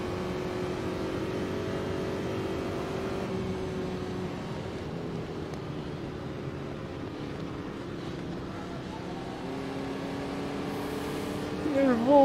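Formula Vee race car in the Automobilista racing game, its engine droning steadily at close range throughout with small pitch shifts, while someone talks over it.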